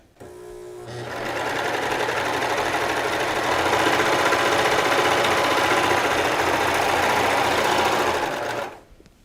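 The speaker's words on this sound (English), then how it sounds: "If you have a serger and you need to make ruffles for a project, take advantage of those settings" A serger sewing machine runs steadily for about eight seconds, gathering knit fabric into ruffles with a dense, even mechanical whir that starts abruptly and cuts off cleanly at the end, loud and close with no talking.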